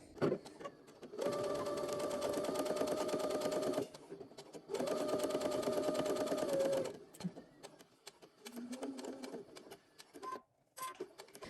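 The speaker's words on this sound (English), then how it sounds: "So once you have 1/4 of an inch left, I'm going to go ahead and back stitch to tie off." A sewing machine stitching quilt binding on a pillow, running in two long steady bursts of rapid close whirring, then short stop-start stitches for backstitching, with no voice.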